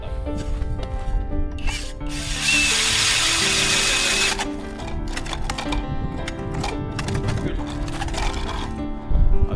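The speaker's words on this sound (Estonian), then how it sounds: "proovib ka siis selle puuri ära, et vaatame, kuidas see puur võtab" A power drill bores holes near a lakeshore at a forest cabin, giving a sustained whirring burst of a couple of seconds amid scattered clattering, tool handling and rubbing noises.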